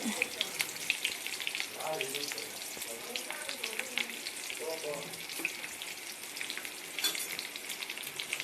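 Onion, curry leaves and green chillies frying in hot oil while preparing crab dry in a home kitchen: a steady, close crackling sizzle runs throughout, with brief stirring scrapes and a faint background voice.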